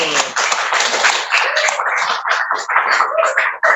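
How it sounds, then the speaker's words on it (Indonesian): Classroom audience claps after a group presentation, a loud, close patter of many hands beating in quick, uneven bursts that tapers near the end, with a voice briefly heard beneath. "tepuk tangan dulu"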